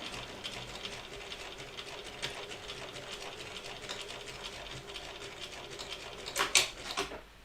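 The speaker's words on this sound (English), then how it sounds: "I love how thorough your back stitching is" A sewing machine back stitching a bag, a quiet, steady mechanical whirr with faint ticking, ending in a few louder clunks of the mechanism.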